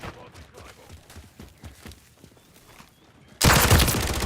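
Gunfire in a Modern Warfare multiplayer match: a run of sharp, regularly spaced shots gives way to a sudden, much louder burst of dense, sustained fire near the end.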